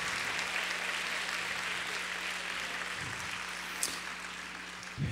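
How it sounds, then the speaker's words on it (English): Audience applause at a live event, a steady broadband wash of clapping that holds evenly for several seconds with a low hum underneath and a couple of brief louder bumps near the end. "Let's give them all a round of applause."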